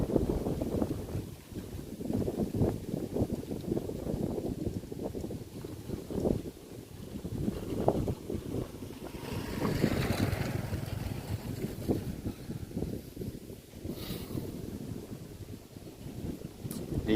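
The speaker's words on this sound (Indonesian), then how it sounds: "Anginnya kencang sekali." Strong wind sweeps across open rice fields, a constant rough roar buffeting the microphone in gusts that swell and ease, loud and close with no voices.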